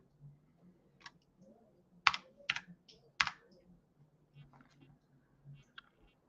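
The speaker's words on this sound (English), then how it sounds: "I'm going to type in my authenticator code." A computer keyboard is typed on in short, sparse bursts of clicks as an authenticator code is entered, close and quiet, with pauses between keystrokes.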